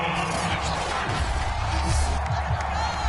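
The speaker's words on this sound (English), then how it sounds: "Plenty of shouts from this crowd as they watch the replay." Stadium crowd in an American football video game, a dense continuous roar of shouts and cheers that swells slightly midway, with no clear talk standing out above it.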